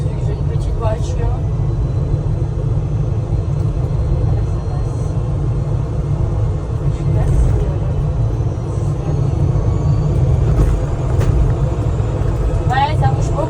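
A small car drives over a potholed road, giving a constant loud low rumble with occasional knocks and jolts, while people talk inside.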